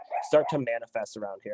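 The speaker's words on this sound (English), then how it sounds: "My apologies for my dog, if you can hear him." A dog whimpers and yips in short bursts close by, mixed in with a person talking continuously over it.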